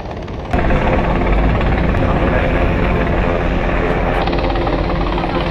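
A helicopter hovers over a ferry collision rescue scene in the waters off Lamma Island, Hong Kong, its loud, steady rotor chop continuous and close, with a voice talking over it.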